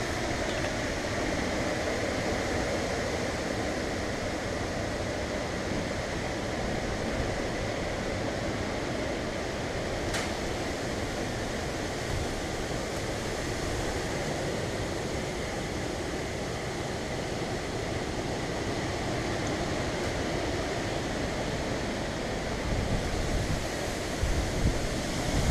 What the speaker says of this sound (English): I think you can hear the winds.